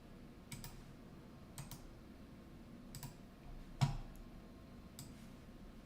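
A computer keyboard is typed on in short clusters of faint clicking keystrokes, with pauses between the bursts and one slightly louder tap.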